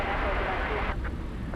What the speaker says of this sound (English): There goes American Flight 972 to Austin, Texas, 737-800.